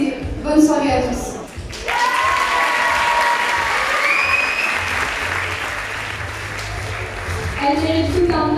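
An audience applauds after a Miss contestant's speech at the Miss Lens 2023 pageant in Lens. The dense clapping is steady and sustained for several seconds, with a brief voice before it and another voice speaking over the end.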